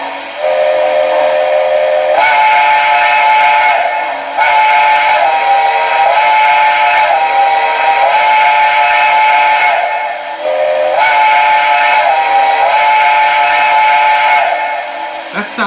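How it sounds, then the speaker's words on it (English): A quillable steam whistle on a later MTH Protosound 2 model train engine from an NYC L4B Mohawk freight set sounds loud and close in long sustained blasts, its pitch bending up and down between short breaks over a steady hiss. "Here's the quillable whistle, since this is a later Protosound 2 engine."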